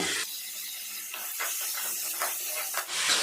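A steady hiss of tomatoes sizzling as they sauté in a hot pan, with faint crackles and pops scattered throughout, continuous and close, no talking.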